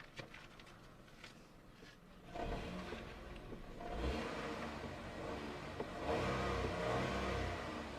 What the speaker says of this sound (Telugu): ఒకసారి కార్ స్టార్ట్ చేసి చూద్దాం క్రాంక్ చేద్దాం